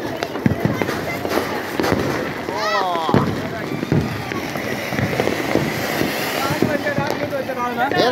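Diwali firecrackers and fireworks crackle and whistle close by in a noisy outdoor celebration, with rising whistles and sharp pops under excited voices calling out throughout.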